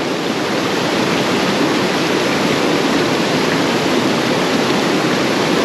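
A glacial mountain torrent near Mont Blanc, fed by snowmelt, rushes in a loud, constant roar of churning water, close and unbroken throughout.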